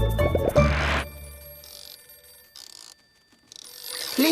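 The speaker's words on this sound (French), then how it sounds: "Téléphone!" Cartoon telephone ringing in a French Oui-Oui episode: several short electronic ring bursts separated by brief pauses, following a louder mixed sound at the start, with no talk over it.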